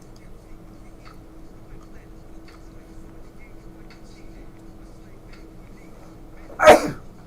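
One sharp, loud sneeze bursts out near the end, following several seconds of quiet room hum with faint indistinct murmuring in the background.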